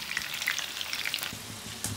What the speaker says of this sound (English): Frying the chicken now and it should look like this.